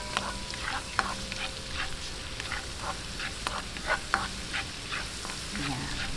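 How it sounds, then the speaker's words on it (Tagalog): Garlic sautés in oil until light brown for a creamy salted egg pasta, a dense close sizzle with frequent spatula stirs and scrapes scattered through, steady and fairly loud. "Ayan, gisa-gisahin lang natin hanggang mag light brown."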